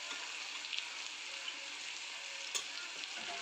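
Spices fry in a pan for a broccoli stir-fry as they are mixed, giving a steady soft sizzle with faint scrapes and clicks of stirring, close and quiet.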